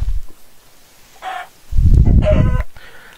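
A Minecraft chicken giving short clucks, a brief squawk near the middle and a louder cluck over a low thump later, close and clear with no talking.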